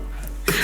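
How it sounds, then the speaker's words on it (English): A single sharp cough bursts out near the end after a moment of quiet, close and loud. "Hold on, I gotta cough"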